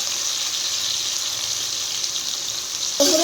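Chopped onion and slit green chilli fry in a pan with a steady, bright sizzle that carries on evenly, then a small clatter at the very end.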